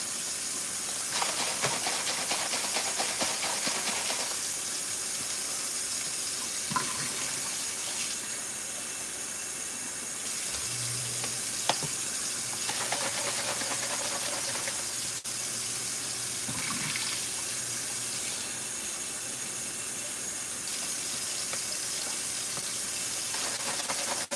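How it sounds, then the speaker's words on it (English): Tap water running steadily into a kitchen sink while a dish with Dawn soap is rinsed, a constant loud hiss and splash that shifts in tone as the flow hits the dish, no speech. "Let me rinse this out a couple more times."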